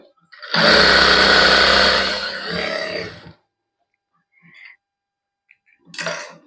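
Sewing machine stitching a salwar, a close, loud whirring run of about three seconds that tapers off, followed by silence and two brief short bursts of stitching.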